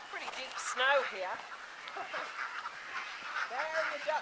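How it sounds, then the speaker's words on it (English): Ducks quack in bursts outside a pen in deep snow on a West Virginia farm after a snowstorm, with overlapping harsh calls at moderate distance. "There are the ducks, guys."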